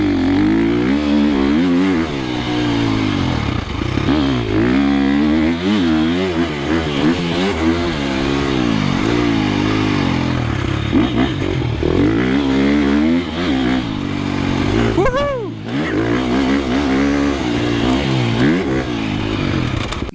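A 2025 KTM 350XCF dirt bike engine revs hard and loud up close, its pitch sweeping up and down repeatedly through throttle blips over about twenty seconds.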